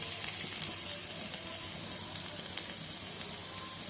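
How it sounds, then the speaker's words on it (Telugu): Chopped onions and green chillies sizzle in hot oil for a lady's finger pulusu, a dense, even frying hiss with faint crackles throughout and no talking. "ముందుగా కట్ చేసుకున్న ఉల్లిపాయలు పచ్చిమిరపకాయలు మనం వేసుకుందాం"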